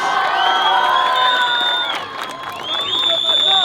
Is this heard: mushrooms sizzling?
no